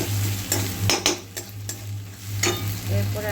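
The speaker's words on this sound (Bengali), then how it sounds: "রসুনের পেস্টটা ভাজা হয়ে গেছে, মানে কষানো মতন হয়ে গেছে।" Garlic paste frying in a pan while being stirred, a steady close sizzle broken by several scraping strokes of the spoon against the pan, with no talk.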